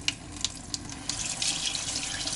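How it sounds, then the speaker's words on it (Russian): A whisk is rinsed under a running kitchen tap, steady water spray with light clinks of the metal against the sink, close and fairly quiet. "А я пока помою венчик."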